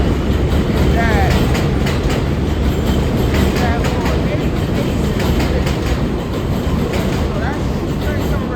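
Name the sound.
train arriving at 88th Street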